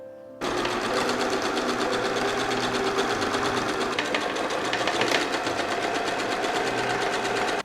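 A sewing machine runs steadily, stitching the side seams of a fabric waistband sewn right sides together. It starts abruptly and keeps a fast, even mechanical whir close up for several seconds before stopping.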